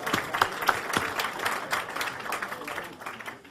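Audience at a startup energy event in New York clapping, a loose mix of individual claps, some sharp and close, that thins out toward the end.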